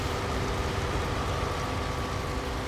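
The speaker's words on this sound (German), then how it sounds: "Kriegen wir Regen oder was?" Steady rain falls in Landwirtschafts-Simulator 19, a farming video game, as a dense, even hiss of drops with a faint low machine hum beneath and no pauses.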